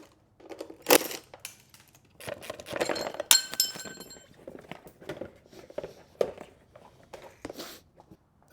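Small metal screws clink and rattle while 10mm screws are removed from the rear fender of a BMW K100 motorcycle, with several sharp bright clinks and a tool-on-metal scrape standing out amid quieter handling noise.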